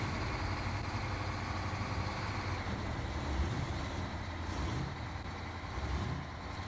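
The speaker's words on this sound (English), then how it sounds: "I love the way that this truck sounds." A truck engine rumbles steadily in the off-road driving game SnowRunner, a low continuous drone with slight shifts in pitch and load, heard alone without talk.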